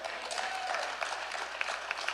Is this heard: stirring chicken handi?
no